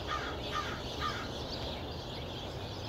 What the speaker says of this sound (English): The birds sound beautiful.